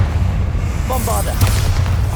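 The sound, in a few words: Bombarda blasting spell, from video game Hogwarts Legacy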